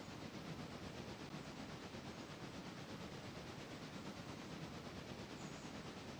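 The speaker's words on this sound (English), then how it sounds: "There it is right there. You can see the caboose taking off. The train is going westbound." A faint, steady rumble of a freight train departing westbound in a video game, with continuous low rattling and no voices.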